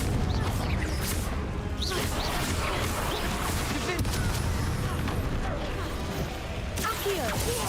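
Repeated Confringo blasting spells cast in Hogwarts Legacy, a dense barrage of bursts, crashes and booms over continuous loud combat noise, with voices mixed in.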